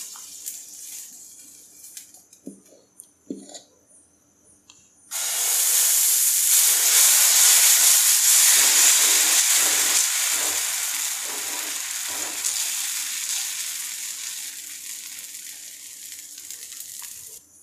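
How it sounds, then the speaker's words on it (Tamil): Homemade dosa batter for garlic dosa is poured onto a hot griddle. After a few quiet seconds with soft knocks, a sudden loud sizzle bursts up and settles into a sustained hiss that slowly eases. "இப்போ தோசை ஊற்றிடலாம்."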